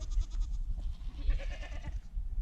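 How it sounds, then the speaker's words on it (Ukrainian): Goats bleat a few times amid low rumbling background noise, the calls moderately close and short. "а це вже кози"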